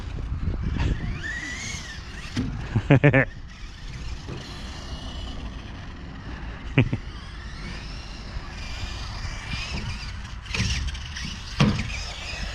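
Small WLtoys 1/24 scale rally RC car accelerating through a mini park, a continuous whining electric motor buzz with rising pitch sweeps and occasional sharp clacks of impacts, close to the microphone, with a voice talking at moments.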